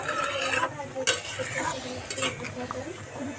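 Fish curry simmers in a pot while a spoon stirs it, making scraping and clinking against the metal over a soft bubbling sizzle. The stirring comes in short, uneven strokes, close and fairly quiet.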